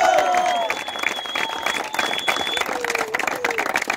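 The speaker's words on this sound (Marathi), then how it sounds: "आकाश लाड जोरदार टाळ्या वाजवा।" Spectators applaud during prize distribution at a village premier league cricket tournament, a crowd's steady clapping that rises then gradually thins, with a few whistles and faint voices mixed into the ragged patter.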